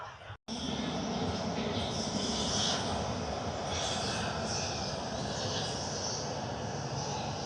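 A Jet2 airliner comes in to land at Manchester Airport, its engines roaring loud and steady with a whining hiss above after a brief dropout near the start, while people talk faintly beneath.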